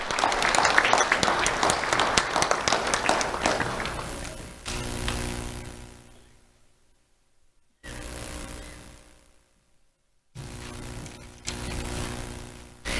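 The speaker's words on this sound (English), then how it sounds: "Let's have a round of applause for Ethan Larson." An audience at a county sheriff's office youth awards ceremony applauds a student: a burst of clapping that thins out after a few seconds, leaving quieter, patchy claps and pauses.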